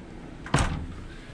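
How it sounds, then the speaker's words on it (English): A bedroom door in a 2020 Newmar motorhome shuts with one solid, close thump, preceded by a faint swish of it swinging; quiet room tone surrounds the single impact. "Like when I open and close this door, it's just top-notch build quality."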